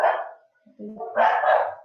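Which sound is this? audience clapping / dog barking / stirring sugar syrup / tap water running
dog barking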